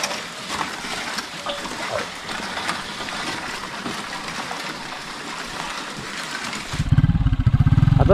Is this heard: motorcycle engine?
yes